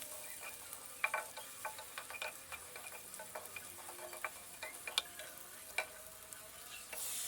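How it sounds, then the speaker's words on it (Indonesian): Sliced chili, garlic, shallots and onion fry in a pan, a soft continuous sizzle broken by irregular clicks and scrapes of a spoon stirring, fairly quiet with no voices. "Jadi ini aku aduk-aduk sampai merata ya. Dan aku masukkan cabai irisnya."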